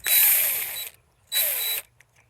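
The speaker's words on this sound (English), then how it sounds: "So this puller is designed to be taken apart" A steel puller for SeaStar hydraulic steering cylinders is disassembled, giving two bursts of bright metallic ratcheting and scraping, the first about a second long and the second shorter, separated by near silence.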